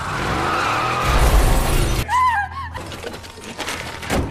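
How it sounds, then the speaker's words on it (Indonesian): A car speeds in and brakes hard, and its tires shriek in a skid with a crashing burst of noise, loud and dramatic, before the sound fades into rustling. "sebuah mobil melaju kencang dan berhenti mendadak di dekat gedung tak jauh dari lokasi Smith berada"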